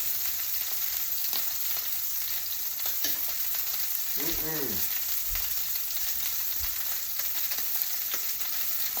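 Steak pan-fries with cold shaved butter laid on top, giving a steady, close sizzle throughout with a brief scrape partway through.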